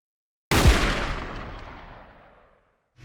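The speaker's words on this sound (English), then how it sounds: "this is just a gunshot sample that I found" A gunshot sample used in a music track: one sharp, loud boom that rings out in a long decaying tail after a moment of silence, with no other sounds around it.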